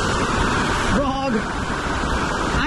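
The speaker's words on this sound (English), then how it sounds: "a really chill spot if you just want to sit down and relax and just enjoy this tiny little waterfall" A tiny waterfall at a hidden swimming spot in Chitwan, a steady broadband rush of falling water close by, continuous throughout, with a brief voice-like sound partly over it.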